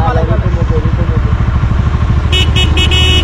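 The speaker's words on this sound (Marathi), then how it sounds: "वाव, एवढा जोरात हॉर्न." A loud vehicle horn blares in a few short blasts near the end, on a road in the Bhuj area of Gujarat, over a steady rumble of engine and traffic noise.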